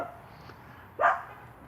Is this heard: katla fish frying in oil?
no